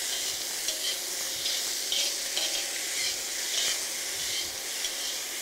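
Salmon is stirred in a hot wok over a high flame, giving a steady, close, bright sizzle with soft scraping from the stirring and no talk.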